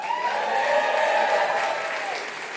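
A comedy-club audience in New York claps for a comedian, with steady, moderately loud applause and a few scattered whoops, with no talking over it.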